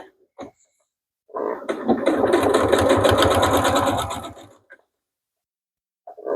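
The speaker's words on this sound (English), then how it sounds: "And do a good back stitch." Sewing machine running a backstitch, one continuous whirring, rattling burst of a few seconds, close and loud, with short handling noises before and after.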